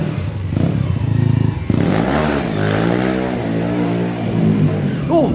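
A Honda Supra motorcycle engine revs up close and loud, rising and falling in pitch with clattering mechanical noise, one sharp rev climbing and then settling into a steady idle-like drone.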